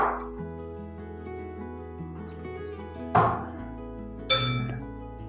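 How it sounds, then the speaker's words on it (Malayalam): A knife slices a carrot lengthwise into thin strips for a mango carrot salad, giving two or three crisp, fairly close knocks on the board over steady background music. "ക്യാരറ്റും ഇതുപോലെ നീളത്തിൽ മുറിച്ചെടുക്കണം"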